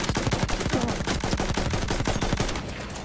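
Dense rapid gunfire from Battlefield 1 on the Sinai Desert map, in Conquest mode, rattles nonstop at close range as a loud machine-gun burst of sharp repeated cracks.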